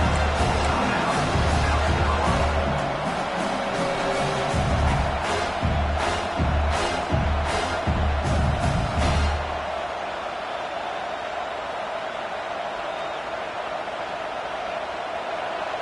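Stadium crowd at a football game in South Carolina, loud roaring and rhythmic surges of noise for the first half, then dropping away to a softer, steadier murmur.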